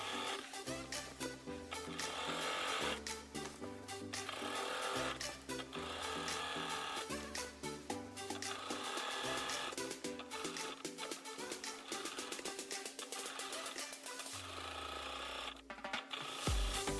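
A sewing machine stitches a seam on a cosplay dress, with rapid rhythmic mechanical ticking in several runs and short pauses between them, close and steady throughout.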